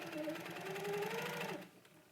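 Sewing machine stitching quilting curves along a ruler, with a fast, steady mechanical whir up close that runs for about a second and a half before stopping, a voice partly over it.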